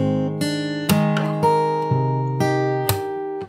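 Fingerstyle acoustic guitar plays the opening of the verse of a song, a steady rhythm of plucked notes and chord strikes about every half second, close and clean with no voices.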